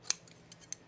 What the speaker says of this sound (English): You're going to trim 3/8 of an inch off this edge here.